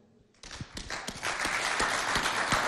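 Applause breaks out after a quiet start and builds into steady, dense clapping from a school audience honoring a student's poem at a Chadian secondary-school contest.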